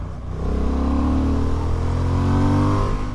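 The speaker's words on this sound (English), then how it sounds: "I am loving this engine." A 2023 Honda CB750 Hornet motorcycle engine revs up and holds at a loud, rising roar, close by, with no talking.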